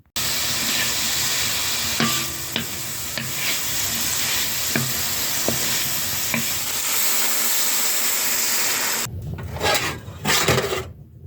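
Meat stir-frying in a pan, a loud continuous sizzle with repeated scraping strokes of a utensil against the pan, close up, then a brief pause and renewed stirring near the end, with no talking.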